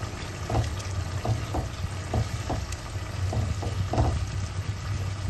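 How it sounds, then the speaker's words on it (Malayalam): Spoon stirring chilli powder into vazhakka erissery, a Kerala raw-banana curry, in a pan, with soft scraping strokes at irregular intervals over a low, steady sizzle. "മുളക് പൊടി, നന്നായിട്ട് ഇളക്കാം."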